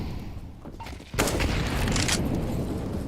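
A grenade explodes in a Counter-Strike match on the Inferno map, a sudden loud blast that breaks over quieter game noise and trails into a long, rumbling, crackling roar.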